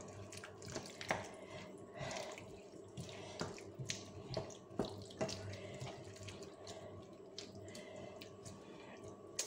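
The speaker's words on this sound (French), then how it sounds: "Je vais rajouter un peu d'eau." Water pours steadily from a tap into a pot of beef bourguignon, a continuous faint splashing with a few soft knocks in a quiet kitchen.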